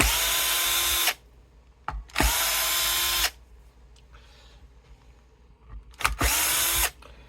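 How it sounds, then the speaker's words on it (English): Power drill backing rusty screws out of a Fender USA Telecaster, three loud whirring bursts of about a second each with quiet pauses between, close and alone. "let's get rid of these nasty rusty screws"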